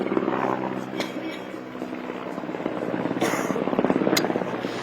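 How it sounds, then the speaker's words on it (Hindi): Helicopter lifting off from a helipad at the Mahakumbh 2025 gathering, a steady loud rotor and engine roar filling the clip with crowd noise and a couple of sharp bangs mixed in. "हेलीकॉप्टर है ये उड़ान भर चुका है। आसमान में आपको ये हेलीकॉप्टर नजर आ रहा होगा, इसने यहाँ से उड़ान भर ली है"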